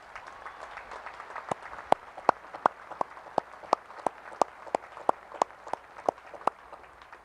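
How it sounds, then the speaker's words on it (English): Audience applause at a US Naval Academy commencement ceremony: a steady patter of many hands clapping across a large crowd, punctuated by sharp, loud individual claps standing out nearby. "How about a round of applause for all those folks?"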